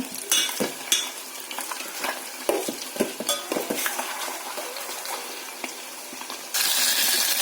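Boiled eggs fry in oil with turmeric and chilli powder, giving a steady sizzle with repeated sharp clicks and scrapes of a utensil stirring in the pan, close and alone, brighter at the end.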